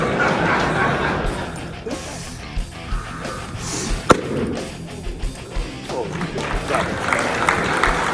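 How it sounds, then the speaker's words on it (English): A live audience applauds a performing strongman after a feat, with broad, continuous clapping and cheering at steady volume throughout, some louder whoops rising within it. "Round of applause for Billy"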